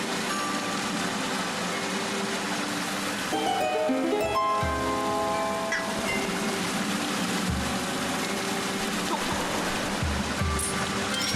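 Waterfall in a flooded room in the video game Zelda: Skyward Sword, a steady loud rushing of water throughout with game music tones layered on top.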